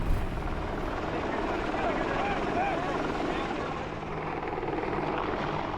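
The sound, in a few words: AH-64 Apache attack helicopter in actual footage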